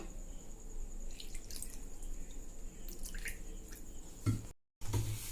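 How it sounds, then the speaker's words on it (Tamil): Water drips and trickles into a bowl of thattai dough in a quiet kitchen, with faint wet mixing sounds and a brief gap of silence near the end. "இப்போ கொஞ்சம் கொஞ்சமாக தண்ணி சேர்த்து நம்ம கலந்துக்கலாம்."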